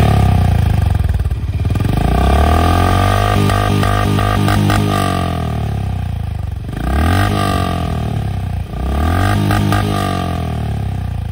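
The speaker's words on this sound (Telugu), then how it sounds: "ఎగ్జాస్ట్ సౌండ్ కూడా కొద్దిగా లౌడ్ అయితే వస్తుంది. అది కూడా నేను మీకు వినిపిస్తాను." A Honda CB350 RS motorcycle's exhaust, recorded up close and loud, as the engine idles and is revved hard three times, each rev rising and then dropping back to a throbbing idle.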